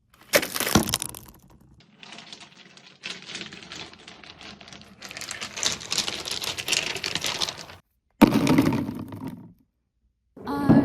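Glass shattering effects mixed with ambience for an animated student film: a sharp crash up front, then stretches of crackling, tinkling debris and roaring texture, a second loud burst near the end after a brief silence.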